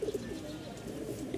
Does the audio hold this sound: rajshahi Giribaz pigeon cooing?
yes